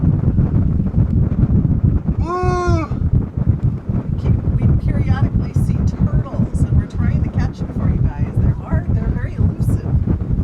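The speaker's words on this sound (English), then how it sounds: "Quite windy." Strong wind on a sailboat buffets the microphone with a constant roar, while people talk and one lets out a brief whoop.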